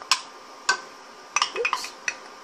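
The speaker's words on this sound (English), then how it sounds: "So here goes my tomatoes." Tomatoes go into a cooking pan for a keto, cheese-free pizza. There are a handful of sharp metallic clinks and clatters of utensil against pan, spaced irregularly, with a quiet background.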